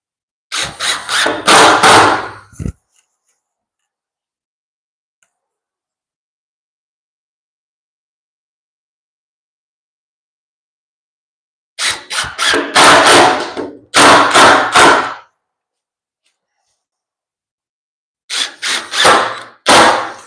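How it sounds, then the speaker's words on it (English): Three bursts of a high-pitched impact drill whining as screws are driven into drywall, each lasting a second or two, separated by long stretches of silence. "just a standard impact drill and the screws works just fine"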